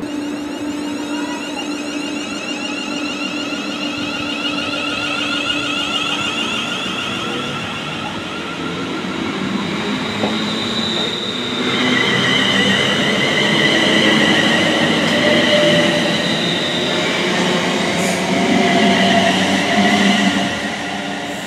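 Steady rumble and rattle inside a moving train carriage headed to Rugeley, with a constant drone and faint mechanical hum that grows louder partway through.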